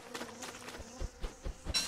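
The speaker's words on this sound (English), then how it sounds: "I hear the buzzing of critters." Insects buzzing in the survival video game Don't Starve Shipwrecked, a soft droning buzz with light pulsing thumps and clicks, moderately faint and heard without talking.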